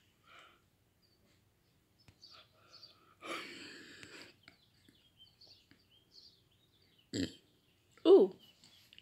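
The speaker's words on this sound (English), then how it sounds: "Burp." A loud, low burp near the end, heard while playing War Robots 2. Before it come a brief murmur of speech and a few soft clicks and rustles, with a short burst of noise between them.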